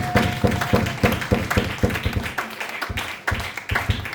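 A church congregation claps in a steady, rhythmic beat while acclaiming during worship, with the loud, even claps repeating at a regular tempo.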